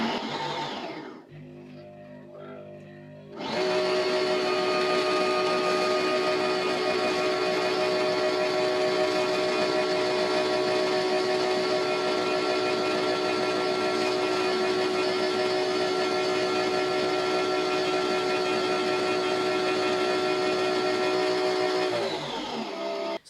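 A Nespresso Vertuo Pop coffee machine brewing a mug-sized Melozio coffee: brief clicks and a short startup, then a loud steady mechanical whir with a constant tonal hum for about twenty seconds before stopping.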